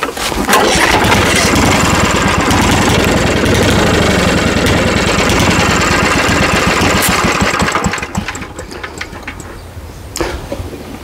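A small pull-cord engine on a mower runs at full throttle with choke, a loud steady close roar that cuts down to a lower, rougher idle with some knocking and clatter near the end.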